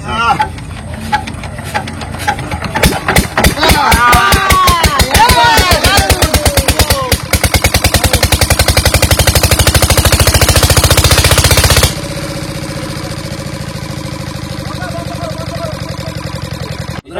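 A boat's engine starts with uneven chugs and then settles into a loud, rapid, pounding mechanical rhythm. It drops to a lower, steadier idle partway through, with people talking over it.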